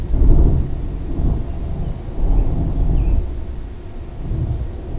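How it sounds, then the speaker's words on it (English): Thunder rolls through an intense storm in deep, loud, rumbling swells that rise and fade several times across the clip, with no voices. "There's another one. As you can tell, it's quite an intense storm."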